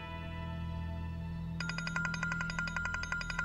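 A telephone ringtone starts partway through with a bright, repeating electronic trill, over a steady low indoor hum, with no speech.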